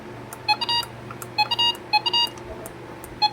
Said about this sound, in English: this thing's randomly beeping in the middle of the night.